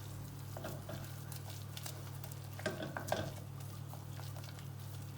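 Flour and margarine paste cooking gently in a pan on low heat, giving a steady soft sizzle with a few light stirring scrapes in the middle, fairly quiet and with no voices.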